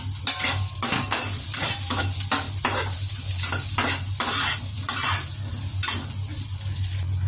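Hotdog and Chinese sausage sizzle in oil in a pan, with a steady close crackle and repeated scraping stirs of a utensil against the metal, fairly loud and without talk.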